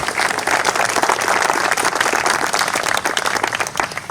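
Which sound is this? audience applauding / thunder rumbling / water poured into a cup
audience applauding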